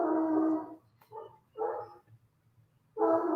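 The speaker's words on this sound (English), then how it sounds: "I hear the puppies." Puppies in a home bark in short bursts, three or four yapping outbursts separated by brief pauses, moderately close and fairly loud, with no talking.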